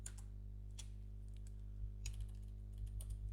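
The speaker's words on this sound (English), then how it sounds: "Type in top, hold down Control Shift Enter." Light, sparse keystrokes on a computer keyboard, including a Control Shift Enter key combination, clicking in small clusters over a steady low electrical hum.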